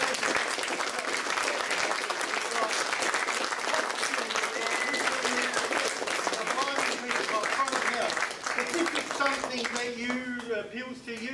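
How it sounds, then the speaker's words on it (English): Loud, sustained applause from a large crowd at a theatre performance fills the whole stretch, tapering near the end as a voice speaks over the fading clapping. "Round of applause for backstage."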